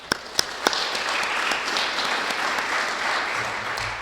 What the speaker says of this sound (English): so we'll give them a round of applause